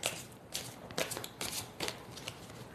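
Tarot cards handled and drawn from a pile: a series of crisp, close flicks and soft shuffling slides in an uneven rhythm, with no talk over them.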